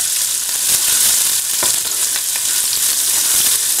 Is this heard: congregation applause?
no